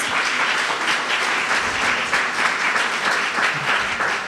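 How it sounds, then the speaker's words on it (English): An audience at a Women's History Month celebration applauds the performers, dense sustained clapping at a steady, fairly loud level throughout, with no one speaking over it. "Please, let's give a round of applause to our performers."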